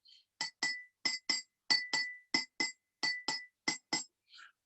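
Glass cups filled with water are struck with metal: about twelve bright, ringing clinks in quick pairs, each tone decaying briefly, close and clear with no talking.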